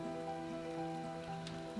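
Steady soft rain patters in the city-building game SimCity, a faint continuous hiss over a low background hum, with no voices.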